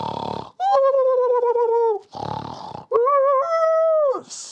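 A snoring sound effect during a children's story reading, loud alternating breathy snorts and drawn-out whistling tones repeating twice, close and alone.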